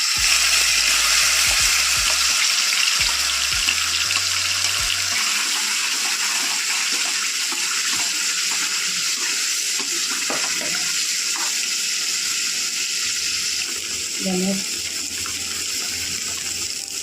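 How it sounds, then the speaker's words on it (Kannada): Spiced paneer masala gravy pours into a hot pan and sizzles, making a steady broad hiss that runs the whole time, with a few soft clatters partway through and a brief utensil clink near the end. "ಉಪ್ಪಿಟ್ಕೊಂಡಿರೋ ಗ್ರೇವಿ ಹಾಕ್ತಾಯಿದ್ದೀನಿ"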